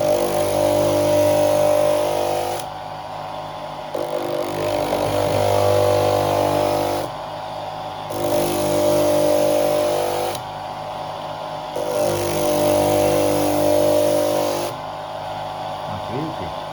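An emery wheel grinder sharpening a workpiece, run in repeated bursts about two seconds long with short pauses between, a loud steady whine and rasp close by, with a voice talking in the gaps.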